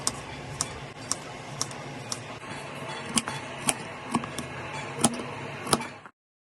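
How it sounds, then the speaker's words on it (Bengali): A knife slices a papaya very thin on a board, each cut landing as a sharp little tap in a steady rhythm about twice a second, fairly close, over faint background noise and no talking. "খুব পাতলা করে করে পেঁপেটাকে আমি কেটে নেব"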